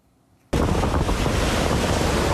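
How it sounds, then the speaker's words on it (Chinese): Typhoon Kong-rey drives huge waves into concrete tetrapods on the Taiwan coast, a sudden loud crash swelling into a sustained thunderous roar of surf mixed with strong wind buffeting. "海涌真大，一波一波拍到肉粽角"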